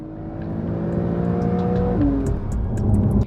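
A Porsche 911 Carrera (992) engine revs and builds speed, its steady growl climbing in pitch and loudness, heard from inside the cabin.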